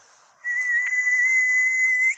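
A person imitates someone whistling on a road, giving one clean, loud sustained whistle on a single held pitch with a slight lift at the end, lasting about two seconds against silence.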